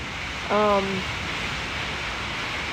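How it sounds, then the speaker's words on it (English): Steady broadband rain hiss during a storm with gusts around 70 mph fills the whole clip, with a brief voiced sound rising briefly above it. "And it's raining."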